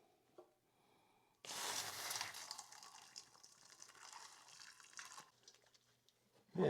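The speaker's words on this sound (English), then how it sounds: "I'm going to get some soapy water" Tap water gushes steadily for a few seconds to fill a container with soapy water for cleaning a new axe, fairly close and alone, then cuts off before a brief louder knock at the end.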